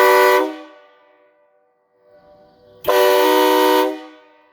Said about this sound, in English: I'm gonna do both of these so you get to compare the sound between the both. But they're both loud horns